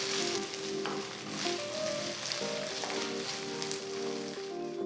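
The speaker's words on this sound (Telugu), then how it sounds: "ఉల్లిపాయ ముక్కలు గోల్డెన్ బ్రౌన్ రంగులోకి వచ్చే వరకు వేయించుకోవాలి." Onion slices fry with ginger garlic paste in an oiled pan, making a steady close sizzle with a few faint stirring scrapes.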